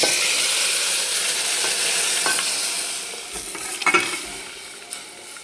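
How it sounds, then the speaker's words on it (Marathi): Chili powder fries in hot oil for a mutton curry with pumpkin, a continuous hiss and sizzle, then a burst of stirring scrapes and clinks near the end, no voices. "तिखट छान तेलामध्ये तळल्यानंतर कलर छान येतो भाजीला त्याच्यामुळे छान तळून घ्यायचं आहे"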